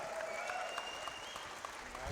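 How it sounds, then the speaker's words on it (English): A crowd at a video gaming event claps steadily in a dense, continuous round of applause, fairly close, with a few faint voices mixed in. "round of applause to all the participants for coming out year after year"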